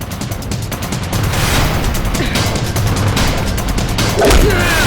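Rapid bursts of gunfire crackle in a Hindi film scene, a string of sharp shots peppering the track with a heavier booming hit near the end, a voice briefly audible.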